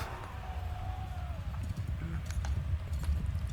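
Horses clip-clop in the Bannerlord video game, a quick, fairly faint run of hoofbeats with scattered clicks and battle noise behind them.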